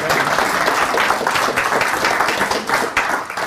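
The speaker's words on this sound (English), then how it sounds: "Oh, you clap, but I was just about finished." An audience at a student affairs staff development session claps together in a dense, steady burst of applause with slightly fluctuating loudness, with no talking over it.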